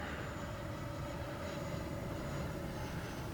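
Flyfans L-39 Black Diamond RC jet model plane on a 6S battery, flying with a steady, continuous whooshing electric ducted-fan roar, fairly faint and distant, with no talk.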